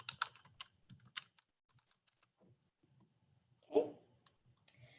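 Scattered keystrokes on a computer keyboard, light uneven bursts of clicking with pauses, plus one louder thump midway, near and fairly quiet.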